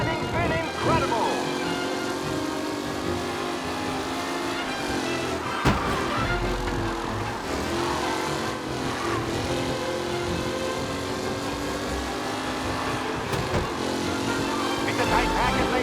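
A tight pack of race cars in Mafia roars past together, a dense engine drone that rises and falls as they jostle for position, with a commentator's voice running over it throughout.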